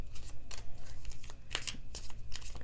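Tarot cards shuffled by hand in quick bursts of crisp riffling and slapping, close and fairly loud, with short pauses between passes and no voice.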